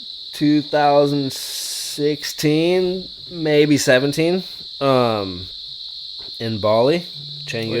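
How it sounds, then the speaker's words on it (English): Cicadas in Canggu, Bali, keep up a loud, steady, high-pitched drone outdoors that runs unbroken through the whole stretch while people chat over it. "Wait, how's these cicadas, by the way?"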